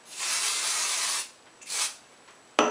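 Two bursts of pressurized aerosol spray hissing close by, a long one then a shorter one, ending with a small click.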